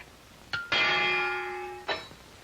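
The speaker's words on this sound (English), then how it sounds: "And here's the bell." A boxing-match bell rings to open the round in a 1942 film, a single loud metallic clang with a long ringing decay, then a second short strike near the end.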